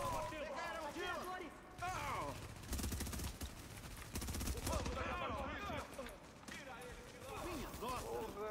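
Rapid bursts of gunfire crackle repeatedly amid loud, excited voices, with sharp shots stacked in quick volleys.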